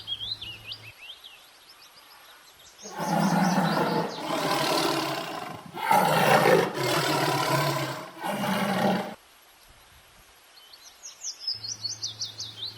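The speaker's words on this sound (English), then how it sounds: "T for tiger." A tiger roars in a series of loud, rough bursts, about four of them over several seconds, with bird chirps heard before and after.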